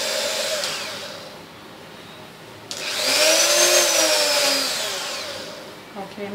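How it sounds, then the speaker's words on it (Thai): An electric drill bores dot inlay holes in a guitar, its motor whirring steadily and then rising into a louder, higher whine that sweeps up and falls away before winding down. "เมื่อกี้เหมือนดอกสว่านไม่ตรง"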